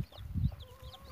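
Chicks and hens in a poultry enclosure where several newly hatched chicks of varied colours have appeared, giving a brief cluck low and close, with faint high peeps over quiet background.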